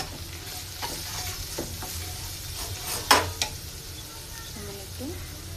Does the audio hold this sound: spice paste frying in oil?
yes